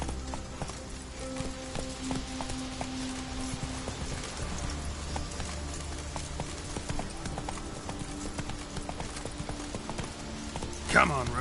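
A horse gallops in the video game The Witcher 3: Wild Hunt, with a steady, rapid clip-clop of hooves over game ambience and a brief sharp burst near the end.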